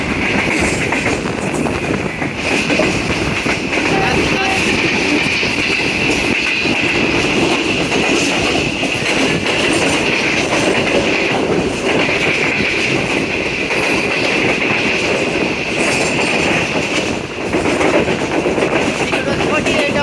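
A Green Line express train descends a gradient through hills, rolling steadily along the rails with a continuous rumble and rhythmic clatter, loud and close throughout, with a faint high whine on top.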